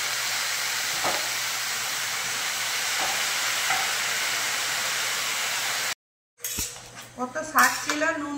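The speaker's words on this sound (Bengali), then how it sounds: "এবার দিয়ে দিলাম কেটে ধুয়ে রাখা শাক।" Chopped, washed khosla greens cook in a pan with a steady broad hiss and a few faint utensil taps, then a brief silence and louder clattering stirring near the end.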